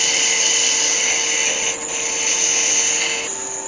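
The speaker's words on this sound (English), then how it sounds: "So just get a quick sand down." A small wood-turned dog's snout spins on a lathe while being sanded, giving a steady high whine with a gritty rasp, loud and close throughout, no talk.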